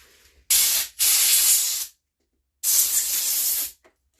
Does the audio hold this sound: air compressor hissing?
yes